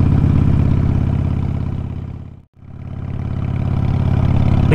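A Harley-Davidson Sportster motorcycle engine idles steadily and loudly with a throbbing low rumble, cutting out abruptly for a moment midway before resuming at the same even pace.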